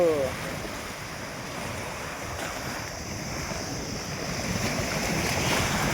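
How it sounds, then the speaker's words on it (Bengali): River waves in the Sundarbans lapping and washing in a steady, continuous rush, with wind buffeting the microphone throughout and no clear individual breakers. "দেখছো এত ভালো ঢেউ, মনে বকখালিতেও দেবে না, এখানে যা ঢেউ দিচ্ছে"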